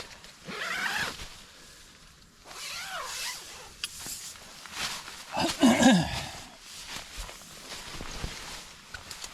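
A tent zipper is pulled in a few quick rasping strokes at a cold, wet and windy campsite, close by amid rustling fabric and handling noise.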